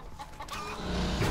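A chicken clucks in a short burst of several quick, nearby squawks, heard in the video game Call of Duty Dead Ops Arcade, with game background noise underneath.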